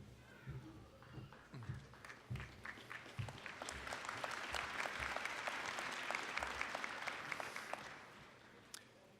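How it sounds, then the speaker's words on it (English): Applause from a graduation ceremony audience builds from scattered claps amid faint murmuring into a fuller wave of clapping, then tapers off near the end. "Thank you for the applause."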